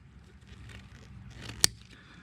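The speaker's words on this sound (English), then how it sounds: "So what I'm going to do is cut the excess now." A single sharp snip cuts off the excess strap end on a Mosko Nomax motorcycle tank bag, one brief close click against a quiet background with faint handling.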